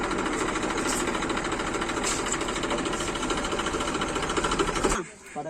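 A Massey Ferguson 1035 tractor engine runs steadily at close range with a dense, rapid mechanical chatter, loud and continuous for about five seconds, then cuts off abruptly.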